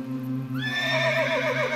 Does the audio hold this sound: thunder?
no